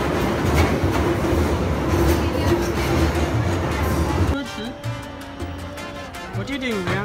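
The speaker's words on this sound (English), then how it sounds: "Train coming." A London Underground train pulls in with a loud, close rumble and rattling clatter for several seconds. The noise then drops sharply to a quieter background, with voices heard.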